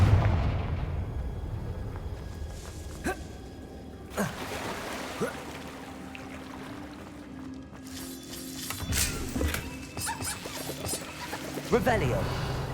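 Fiery Confringo blast spells from the video game Hogwarts Legacy, a few sharp explosive bursts with crackling bangs scattered through a dense game soundscape, with a voice speaking over it.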